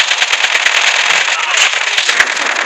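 Rapid automatic gunfire from Call of Duty Mobile, loud and dense bursts of shots rattling continuously for a few seconds.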